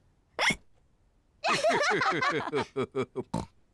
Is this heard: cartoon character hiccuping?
yes